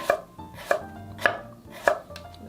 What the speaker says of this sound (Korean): 요 끝부분에 남아있는 거 곱게 채 썰어주세요